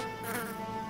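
A steady, high insect buzz of cartoon bees hums continuously, like a swarm, moderately faint with a sustained tonal whine.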